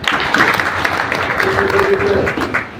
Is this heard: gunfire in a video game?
no